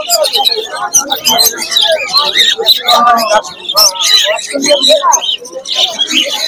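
Lutino cockatiels at a pet bird market chirp in a dense, continuous flurry of bright calls from several birds, close and fairly loud, with someone talking over them.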